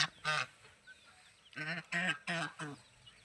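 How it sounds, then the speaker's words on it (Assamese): Domestic ducks giving loud, nasal honking quacks in short bursts: one call, then a rapid run of four close together, near the listener with quiet gaps between. "এইজনী হাঁহ এনেই ৰাখিছোঁ কেলা"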